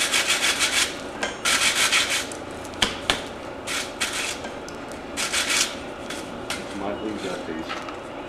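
Rough, rhythmic rasping strokes of a tool scraping crust off a Damascus steel billet, repeated in short bursts with occasional sharp knocks, fairly close under quiet background noise.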